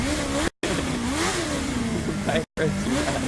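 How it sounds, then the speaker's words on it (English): A Kawasaki Ninja H2 motorcycle engine revs in the racing video game The Crew 2. It is loud and continuous, rising and falling in pitch, with two brief cutouts. "I can't hear you when you're revving your bike."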